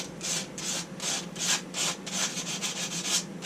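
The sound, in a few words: sandpaper cleaning an engine gasket surface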